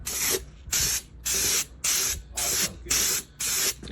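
Spray paint hisses onto a car part for a first coat in seven short, even bursts with brief pauses between, loud and close.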